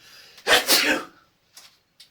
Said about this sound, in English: I feel a sneeze coming